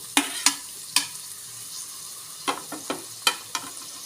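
Green chillies, onion and tomato frying for a fish curry, with a soft sizzle behind a few sharp, close scrapes and taps of a spoon against the pan, coming in irregular bursts.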